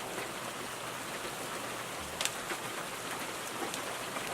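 Light spring rain falling steadily around an Alaska cabin, a dense even patter with a few sharper drips standing out, no voices.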